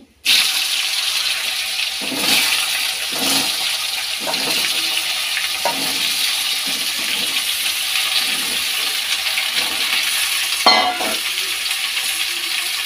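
Papaya pieces frying in oil in a pan, a continuous loud sizzle with occasional scraping stirs and clinks, no talking.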